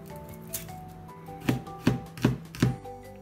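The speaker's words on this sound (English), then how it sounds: "Okay, I'm gonna cut the garlic." Four crisp knife chops through a clove of garlic on a cutting board, evenly spaced about half a second apart, close and clear over a quiet kitchen hum.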